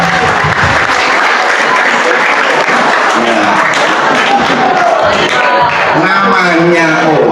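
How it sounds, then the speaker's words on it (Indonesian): An audience at an Isra' Mi'raj commemoration at a junior high school in Semarang breaks into loud, sustained applause. The clapping fills the clip, with voices mixed underneath. "Tepuk tangan tuh Pak Cus Mulkuan."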